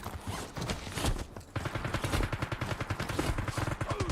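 Rapid automatic gunfire from a pistol or SMG in a live-streamed shooter game, a dense run of sharp repeated shots filling most of the stretch with a brief lull midway.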